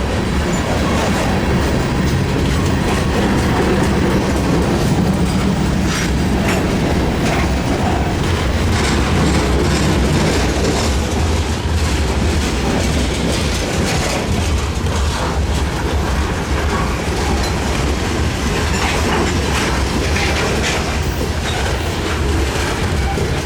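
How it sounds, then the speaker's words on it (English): A CSX freight train led by locomotives rolls past close by, a loud steady roar of wheels and rumbling railcars with faint clickety-clack and occasional squeal, lasting throughout. "I think this is train 453"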